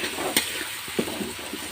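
Onion and spice masala frying in a pan, a brief dense sizzling hiss with a couple of stirring knocks, close and steady.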